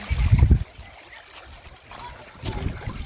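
Spring water runs in a small stream beside a village temple, a soft continuous trickle and gurgle heard close up, with nearby voices talking over it in bursts at the start and end.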